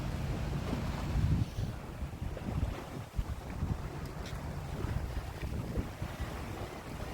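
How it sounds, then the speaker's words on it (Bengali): Speedboats running on the sea off a Long Island shore, a steady rumbling motor drone mixed with heavy wind buffeting the microphone and the wash of waves. "এগুলো সব স্পিড বোট।"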